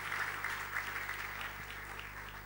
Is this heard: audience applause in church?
yes